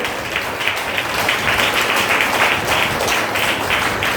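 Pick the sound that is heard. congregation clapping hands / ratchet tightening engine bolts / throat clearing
congregation clapping hands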